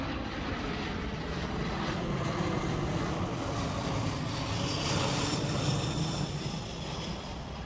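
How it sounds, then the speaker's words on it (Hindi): A US Air Force C-17 Globemaster transport aircraft, its engines producing a loud, continuous roar with a slight swell in intensity partway through, with no voices. "अमेरिकी एयरफोर्स का C-17 ग्लोबमास्टर विमान अचानक रूस के एयरपोर्ट पर उतरा"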